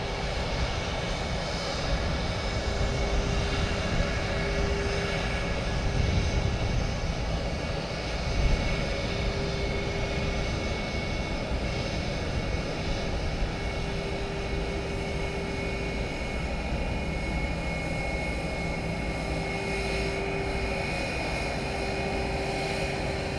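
Airliner engines roar steadily and close at San Juan's Luis Muñoz Marín International Airport, a broad continuous rumble holding level for the whole stretch with no one talking.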